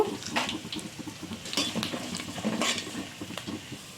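Mustard seeds, cumin, curry leaves and cashews tempering in hot oil give a light, steady sizzle with scattered small pops and crackles, close and moderately quiet with no voices.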